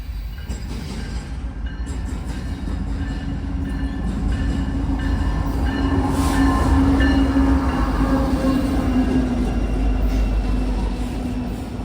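Kansas City Southern freight train rolling past at a crossing, a heavy low rumble with rhythmic wheel clatter and faint squeals, swelling louder midway and staying close throughout.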